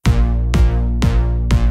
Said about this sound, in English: The second is 1 bass note on every beat, just like the kick drum